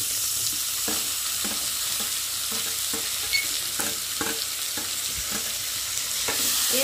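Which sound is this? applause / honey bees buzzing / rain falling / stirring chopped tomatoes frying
stirring chopped tomatoes frying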